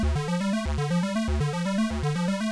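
An Arturia MicroFreak synthesizer arpeggiator cycles held notes in a fast, steady pattern, each step bright and buzzy, with a repeating low note anchoring the loop.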